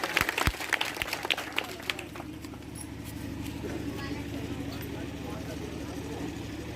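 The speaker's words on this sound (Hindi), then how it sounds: "पुनः इनके लिए ताली हो जाए" An audience at a community celebration claps for a poet in a short burst of applause that fades after about two seconds into low crowd murmur and background rumble.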